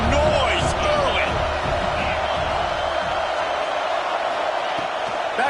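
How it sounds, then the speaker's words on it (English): Steady roar of a packed stadium crowd at an Ole Miss vs Notre Dame college football game, loud and continuous under a commentator's voice. "This crowd bringing the energy and noise early."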